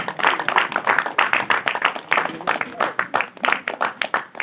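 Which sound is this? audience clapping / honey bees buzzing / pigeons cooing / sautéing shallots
audience clapping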